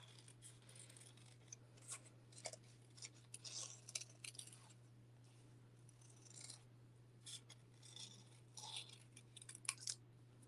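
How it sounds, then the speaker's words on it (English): Scissors snip paper while fussy cutting around an embossed papercraft piece, a steady series of small, quiet cuts close by with soft paper rustle and a faint steady hum beneath, no talking. "I'm going to go ahead and fussy cut this part out"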